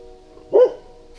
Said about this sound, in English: The dogs are barking at the train.